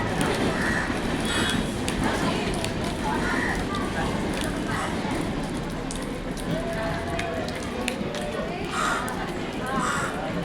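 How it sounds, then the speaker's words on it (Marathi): A train rumbles past nearby with a steady rolling roar and occasional clanks and squeals, while people talk over it. "ट्रेन जाते हे बघा"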